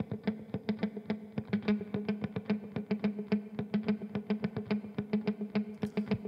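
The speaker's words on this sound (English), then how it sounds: "Now it sounds like this with the reverb." A rapid, steady rhythmic pattern of plucked or percussive tones played with a wash of delay and reverb, the hits smearing into each other.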